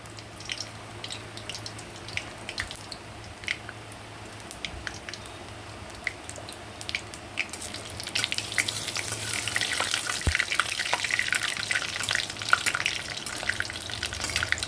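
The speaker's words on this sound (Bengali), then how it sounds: "তেলে আমি ফোড়ন দিয়ে দেব শুকনো লঙ্কা আর দিয়ে দেব কালো জিরে ফোড়ন" Dried red chillies and nigella seeds crackle and sizzle in hot oil, with scattered pops and clicks over a steady fry that grows a little louder toward the end.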